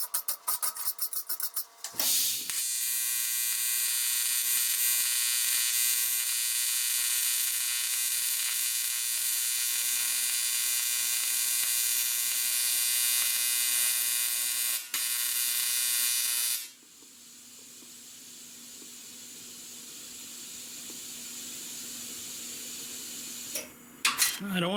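TIG welder arc on a cracked aluminum boat ladder, a steady loud buzzing hum with harmonic whine holding for about fifteen seconds, then cutting to a quieter, lower drone before a brief final burst.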